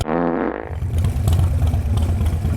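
An old display motorcycle engine is revved hard, rising sharply at the start and then settling into a loud, rough, throbbing roar close by.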